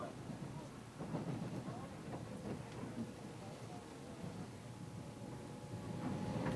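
A Seoul subway Line 1 train running, heard from inside as a steady low rumble with rattling and clanking, moderately loud and continuous throughout.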